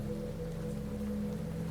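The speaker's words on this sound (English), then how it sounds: "a gentle rain began to fall, fine as a veil" Gentle light rain falling in an even, soft patter under a faint low steady hum, with no voices.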